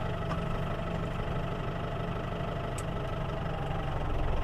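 A tractor engine idles steadily at close range, giving a loud continuous low rumble with an even mechanical chug and no speech.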